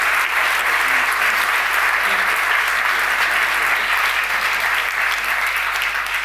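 Audience at an award ceremony clapping warmly, a dense steady wash of applause holding at full strength from start to finish.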